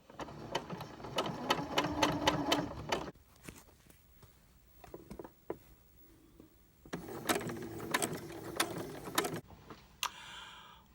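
A sewing machine stitches fabric on a hat in two loud rapid bursts of rhythmic needle clatter, separated by a quieter stretch of faint handling clicks.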